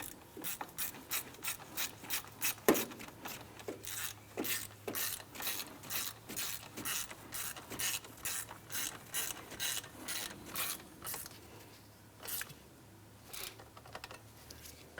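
Ratchet snugging down a bolt on a 2001-2005 Honda Civic engine during camshaft seal work: close, crisp clicking in quick, regular bursts that repeat steadily, with short pauses between strokes, no talking.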